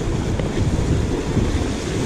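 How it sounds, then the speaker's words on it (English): Steady wind buffets the microphone on an open coastline at Groote Eylandt during land-based fishing, a continuous rough, roaring rush with no break and no talking. "also a fair bit of wind in that breeze out there too"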